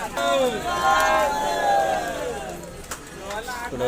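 Dense babble of a packed crowd pressing into a train carriage on the Konkan Kanya Express, many overlapping voices and shouts close by, loud and continuous.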